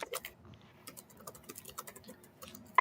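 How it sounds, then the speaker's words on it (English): Quick bursts of typing on a computer keyboard, light clicky keystrokes in uneven runs, close and fairly quiet, ending with one louder key tap. "are you typing?"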